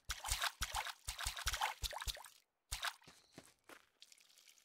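Crops being watered in the farming game Staxel: a string of short splashy, dripping bursts in quick succession, then a pause and a few softer pours.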